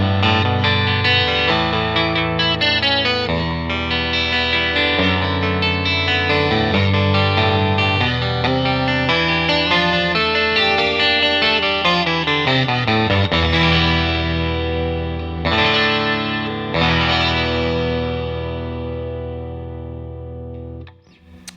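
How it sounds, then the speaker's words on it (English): Ravenswood 12 solid-body electric 12-string guitar picked in the neck position plays a shimmering, chorus-like lead solo with ringing doubled notes that sustain and fade at the end, with no talking. "neck position solo."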